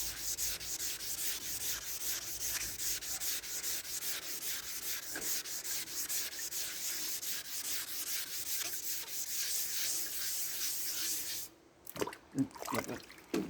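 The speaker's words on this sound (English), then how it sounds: "I'm going to rub that through a bit more." Primer on a VW Beetle trailer is wet-sanded by hand, giving a steady gritty rubbing swish that runs on continuously, close and moderately loud, then stops near the end for a few faint knocks.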